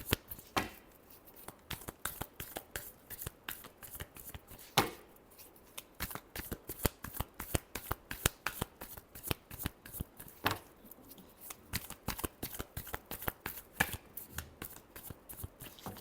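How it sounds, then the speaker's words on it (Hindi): Tarot cards being shuffled by hand, a long run of crisp, rapid riffling flicks and slaps in quick bursts, close and clear with brief pauses between rounds. "Last shuffle."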